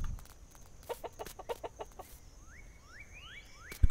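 Chickens in the farming game Dinkum cluck in a quick run of short close notes, then a few rising chirps follow over a quiet background, ending with a brief thump.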